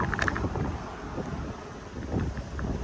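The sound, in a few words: strong wind blowing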